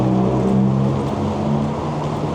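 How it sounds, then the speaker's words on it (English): Traffic on a busy main road beside a Quingo Toura Mk 2 mobility scooter, a close, continuous engine rumble of passing vehicles with no talking. "I apologise for all the sounds you're going to hear because we are on a main road."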